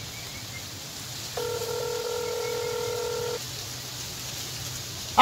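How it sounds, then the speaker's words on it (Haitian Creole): A telephone rings once with a single electronic tone lasting about two seconds over quiet room noise, followed by a brief sharp click at the end. "le téléphone a sonné"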